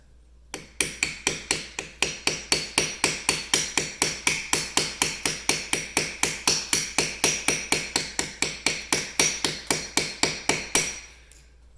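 An old worn wood chisel is hammered into brick in a steady, fast series of about forty loud sharp metallic strikes, evenly spaced and close, ending abruptly.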